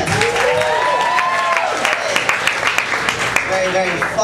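Comedy club audience at the Brea Improv applauding a comedian, a dense, steady wash of clapping with cheers, under a host's loud talk throughout.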